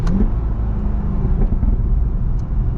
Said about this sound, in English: It's so cool to just be able to hear the engine.